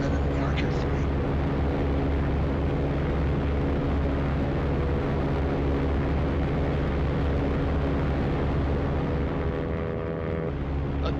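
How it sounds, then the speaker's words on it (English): A Piper Archer's piston engine passes by in X-Plane 12, a loud, steady drone with a slight shift in tone near the end of the flyby. "Again, you can hear the engine sound transition on the flyby"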